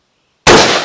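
A single gunshot fired through a Ford vehicle door, a sharp, very loud crack that starts abruptly after a moment of silence and then decays.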